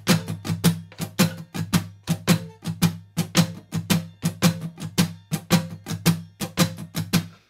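Acoustic guitar strummed in a steady repeating pattern with accented up strums, crisp evenly spaced chord hits ringing over a sustained low hum, close and alone with no talk.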